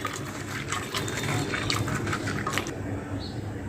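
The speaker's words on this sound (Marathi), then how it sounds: "आपण चांगले दोन ते तीन पाण्यामध्ये चांगले धुवून घेऊया बोंबील" Dried Bombay duck fish being rinsed by hand in a bowl of water, with steady sloshing and splashing and a few brighter drips, close and continuous throughout.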